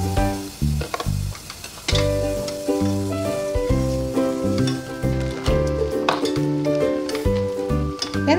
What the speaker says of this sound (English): While melting the butter, we also add some white onion to make our